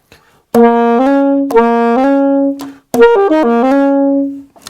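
A saxophone plays a short melodic passage using the most common fingering, sustained notes with a couple of breaks and a quicker run of changing pitches near the end, clear and close with no talk.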